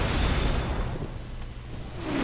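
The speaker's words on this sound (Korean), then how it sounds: "공허의 파편 쪽으로 폭죽 날린다" A fireworks ability is launched toward a Void Shard in StarCraft II co-op, giving a loud booming burst with a rushing whoosh that fades over about two seconds.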